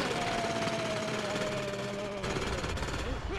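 A drill bores through rock walls in the Manic Miners video game, a dense continuous grinding chatter with a faint whining tone riding on top, fairly loud and steady for a few seconds.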